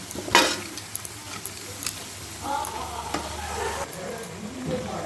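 Garlic and spices frying in a pan with already-fried chicken, giving a steady sizzle with scattered light clicks and scrapes of a stirring utensil.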